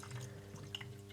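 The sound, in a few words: pouring engine oil into a BMW E60 engine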